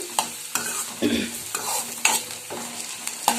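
Slit green chillies frying and crackling in hot oil for an okra stir-fry tempering, with a steady sizzle broken by regular scraping stirs about every half second.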